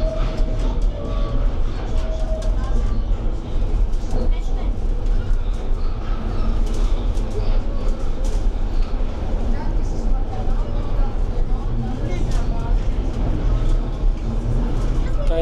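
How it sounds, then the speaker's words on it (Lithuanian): A funicular mountain railway car near Vesuvius in Naples rumbles steadily as it climbs, a dense continuous rolling hum with rattles throughout and faint voices underneath. "Kalno traukinys."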